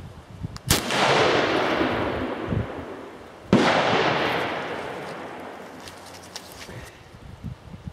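Two loud, sharp blasts from a .338 Lapua Magnum rifle fitted with a T3 muzzle brake, firing 300-grain SMK bullets outdoors, each crack rolling into a long, fading echo, spaced a few seconds apart.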